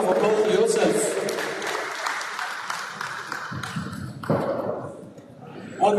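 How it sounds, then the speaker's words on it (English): A townhall audience at a Hyundai company event gives a round of applause, loud and dense at first, then thinning and fading, with a brief renewed burst near the end and a voice speaking over it. "a round of applause for yourself"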